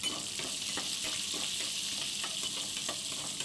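Whole small shallots and garlic sauté in a pan with a bright, constant sizzle, while soft stirring scrapes recur at irregular intervals close by.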